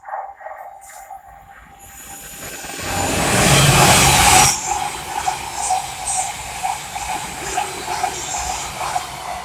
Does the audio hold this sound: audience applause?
no